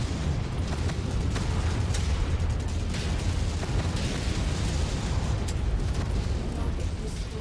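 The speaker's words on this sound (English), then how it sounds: "There's so many explosions." Continuous heavy rumbling and booming blasts from a MechWarrior 5 battle, mech combat with helicopters nearby, dense and loud throughout with scattered sharper bursts and no clear pauses.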